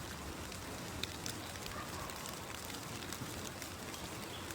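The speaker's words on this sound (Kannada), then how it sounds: "ಮಳೆ ಬರ್ತಾ ಇದೆ ಜೋರು" Steady, dense hiss of heavy rain pouring down, constant throughout with a few sharper drips standing out.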